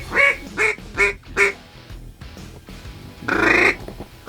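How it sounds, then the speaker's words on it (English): A duck approaching a hunting blind, heard as four loud, close quacks in quick succession, then a pause and one longer, raspier quack call. "On the left, there's a bird coming."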